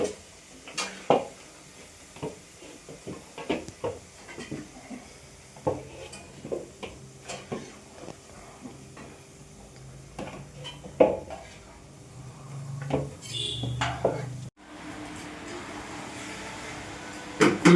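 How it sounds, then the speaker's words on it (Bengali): Metal utensils scrape and clink against pots in irregular knocks and stirs while a bhog offering is cooked for a Durga Puja, with a low steady hum and light sizzle underneath and no talking. "আমি আমার মায়ের ভোগ রান্না শুরু করছি।"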